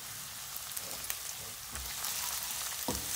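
Chopped green chillies fry in a chana dal tadka, a steady low sizzle with scattered crackles and a couple of soft stirring knocks.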